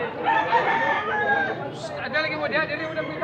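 A rooster for sale at a market in Consolacion, northern Cebu, crows in a drawn-out call amid steady crowd chatter, with someone talking close by.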